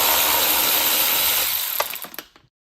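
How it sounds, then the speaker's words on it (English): An electric ratchet whirs steadily while backing out T25 screws from a BMW E92 335i headlight cover, then slows and stops with a few ratcheting clicks. "For this cover, we have 5 T25s, so I have this on my electric ratchet"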